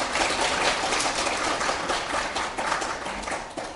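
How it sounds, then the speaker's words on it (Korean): Dense applause from a crowd at a Seoul city party chapter chair election event, steady and fairly loud throughout with no talking over it. "다시 한번 뜨거운 박수 부탁드립니다"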